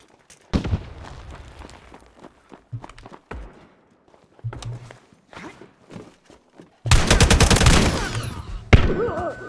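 Shotgun and other gunfire from the WWII team shooter United 1944, with sharp separate blasts and footsteps, then a loud sustained burst of firing near the end.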